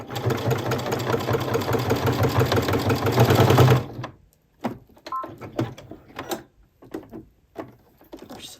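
A sewing machine runs a zigzag stitch through a thick quilted potholder, a loud, steady mechanical whir for about four seconds, then stopping, followed by faint handling clicks and rustles.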